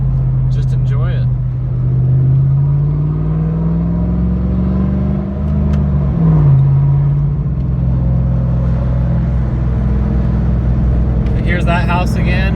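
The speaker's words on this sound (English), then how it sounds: "listen to the beautiful V8" A 1998 Cobra's V8 rumbles steadily at close range, its tone rising then dipping briefly midway as it revs, with someone talking over the engine noise.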